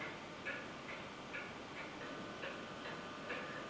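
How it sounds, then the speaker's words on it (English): An old clock ticks inside Sark Lighthouse in the Channel Islands, a faint, regular tick-tock of about two beats per second over quiet room hiss, with nothing else intruding. "that nice ticking noise you can hear is the old"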